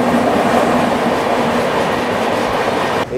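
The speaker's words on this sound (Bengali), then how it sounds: "এবার আমাদের ট্রেন অপোজিট ডিরেকশনে যাবে" Inside the 12863 SMVT Bengaluru SF Express, a 3E coach running from Howrah toward Tirupati, a loud, continuous rumble of wheels on track rolls on steadily, then dips briefly at the very end.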